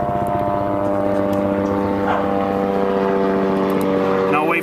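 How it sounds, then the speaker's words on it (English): A helicopter passes over an outdoor scout camp, a loud, steady droning buzz with rhythmic rotor throb that stays close throughout, with some faint voice-like sound mixed in. "we've got a helicopter coming over us right now"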